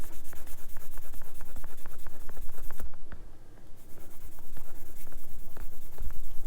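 Rubbing a seam line off a plastic part of a Tamiya 1/24 Ferrari LaFerrari model kit, a loud, fast rhythmic scratchy back-and-forth rasp, close up with a brief pause midway, no talking.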